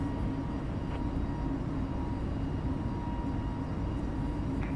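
An Airbus A320neo rolls for takeoff from London Heathrow in Microsoft Flight Simulator, a steady loud broadband engine roar with a low rumble that continues evenly and without talk.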